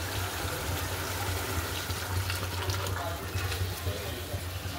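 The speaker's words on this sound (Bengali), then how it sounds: "তো এবার দিয়ে দেবো সেদ্ধ করা ডাল, ডাল সেদ্ধ হয়ে গেছে" Boiled lentils poured into a gourd curry seasoned with salt and turmeric, a steady close wash of liquid with a low hum underneath.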